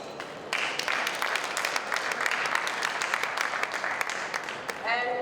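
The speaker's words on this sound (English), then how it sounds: "A round of applause for Wafa, please" At a vegetarian congress, applause from a conference audience bursts in after a brief pause and continues as steady, dense clapping, moderately close, before a voice starts speaking at the very end.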